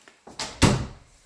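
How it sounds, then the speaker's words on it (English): A bathroom storage cabinet door opens with a soft rattle followed by a louder wooden thunk, one brief close-up movement in a quiet room. "when you open up this door, you have even more storage inside of this bathroom"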